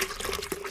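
Orange juice being poured into a glass jug, a short, steady liquid gurgle and splash that is close and fairly soft.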